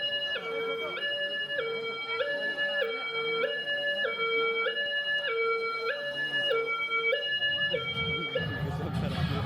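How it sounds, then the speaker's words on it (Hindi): A two-tone siren opening a magic show alternates high and low in a steady, repeating rhythm, loud and continuous, with a rumble of noise entering near the end. "सायरन से जादू की शुरुआत होती है।"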